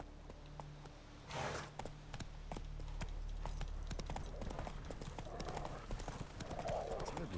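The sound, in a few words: horse Roach galloping hooves, from a video game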